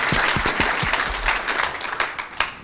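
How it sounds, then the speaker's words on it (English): Audience applause at an official opening session of a forum, a dense burst of clapping that stays fairly loud for a few seconds, with a few sharper claps near the start and end. "I think it's a moment to give an applause to them"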